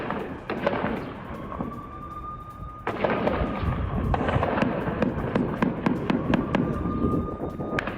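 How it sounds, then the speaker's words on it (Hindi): Israeli army artillery firing during fighting with Hamas in northern Gaza, a rapid series of sharp booms and cracks over a dense rumbling roar, with faint whistling tones running through. "इजरायली सेना आर्टिलरी से कर रही है हमला"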